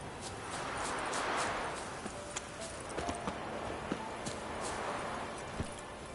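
Hooves of Roach, a horse in The Witcher 3: Wild Hunt, clopping along at a steady walking pace, quiet and moderately close, with a few sharper hoof strikes standing out over a soft ambient background.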